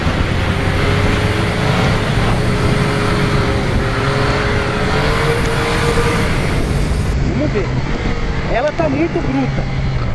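Yamaha MT-09 2020 motorcycle engine under way on a test ride, a loud continuous growl with wind rush, rising and shifting in pitch as the bike accelerates, while a rider talks over it.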